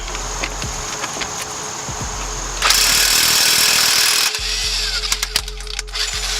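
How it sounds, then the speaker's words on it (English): An impact gun or power tool works on the wheel hub of a 2016 Nissan Maxima during a hub and bearing replacement, with a loud sustained burst in the middle and sharper rattling clanks around it, no talk. "you like to use the power tool"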